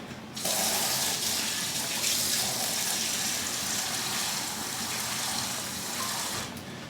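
Water runs steadily into a cup of heavy cream while a white BBQ pizza sauce is being made, a continuous close splashing pour lasting several seconds before cutting off.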